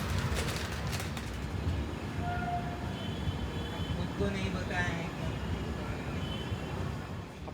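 A train rolls along, heard from inside the carriage: a constant low rumble and rattle of the wheels, with faint voices and cabin noise mixed in.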